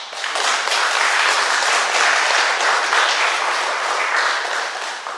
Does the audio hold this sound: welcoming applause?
yes